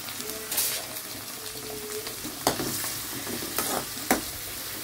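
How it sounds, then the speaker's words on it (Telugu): Onions, green chillies and curry leaves sizzling in hot oil in a pan for a mixed vegetable and brinjal curry, a steady fry with scraping stirs and a few sharp clatters of a spoon against the pan. "నెక్స్ట్ నూనె వేడెక్కింది, ఆనియన్స్ వేస్తున్నాను"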